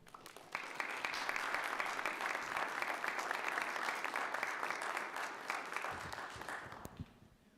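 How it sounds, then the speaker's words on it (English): Warm audience applause after a speech at a Right to Life oratory contest, a steady wash of many hands clapping that holds for several seconds before tapering off, with no voices over it. "thank you for giving him such great affirmation with your applause"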